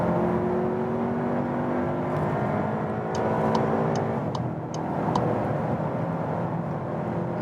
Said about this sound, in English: German Autobahn is always racing.